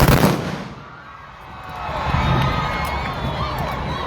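A rifle volley fired at the 2024 Zambia police passing-out parade at Kamfinsa training school cracks loudly right at the start, then rolls away in echoes over a murmuring outdoor crowd.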